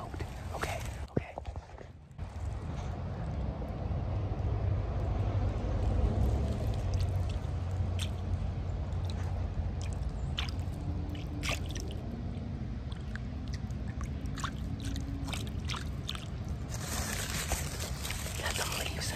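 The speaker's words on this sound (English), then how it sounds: "Now I'm by this pond, I hope you can hear this like running water." Water running and trickling at a pond outdoors in winter, a steady close wash of flow with a few brief handling and step noises over it.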